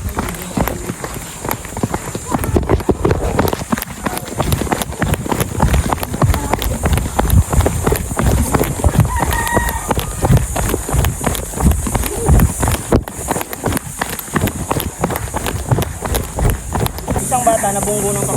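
On a mountain trail during a holiday hike, a horse's hooves keep up a loud, fast, rhythmic clatter mixed with running footsteps, while people talk and shout over it.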